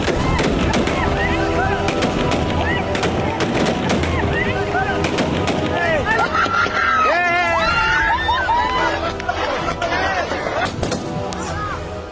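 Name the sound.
gunfire at Kabul airport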